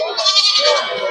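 A native castrated goat bleats loudly and close at a livestock market, one drawn-out wavering call lasting about a second.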